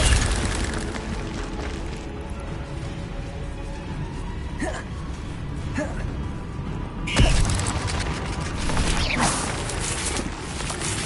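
Incendio fire spell cast in Hogwarts Legacy, a roaring whoosh of flame with a heavy boom partway through over a loud game ambience, with faint voices in the background.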